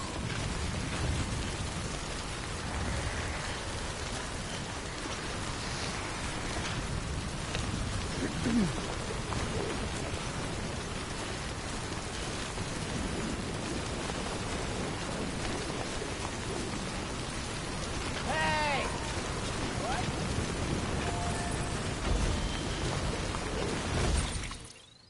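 Timefall rain in the video game Death Stranding, a continuous soft hiss of falling rain pattering on surfaces, steady and moderately quiet for the whole stretch, with faint scattered bird-like chirps in the background.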